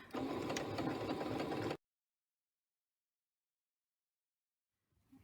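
A sewing machine runs a basting stitch through fabric in one steady, close whir that stops abruptly after under two seconds, followed by near silence.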